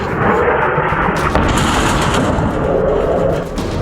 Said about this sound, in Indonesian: Dentuman keras yang diduga berasal dari serangan militer Israel jatuh di kawasan Joya, Lebanon Selatan.